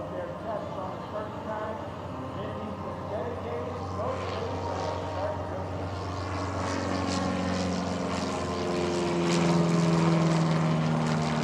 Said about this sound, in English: Kyle's flying Cherokee